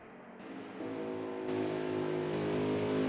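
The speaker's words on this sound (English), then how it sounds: "Have a listen to Tim Moore's engine. It's ever so gentle with the fuel, with the throttle" A race car runs low on fuel on an oval track, its engine held at gentle throttle. It is a smooth, steady hum that builds slightly in loudness and pitch, with no talk.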